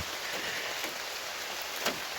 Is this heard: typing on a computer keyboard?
no